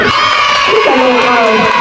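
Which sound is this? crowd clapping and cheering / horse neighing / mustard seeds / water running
crowd clapping and cheering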